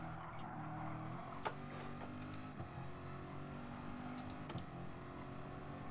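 A race car engine hums quietly in a Gran Turismo-style Gr.4 online league race, a Mazda among the cars; a faint steady drone runs throughout with a few brief clicks and ticks on top, no talk.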